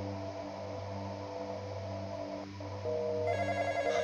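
A telephone rings in the video game The Intruder, a steady electronic tone over a low droning game soundtrack, louder and brighter near the end, with no talk.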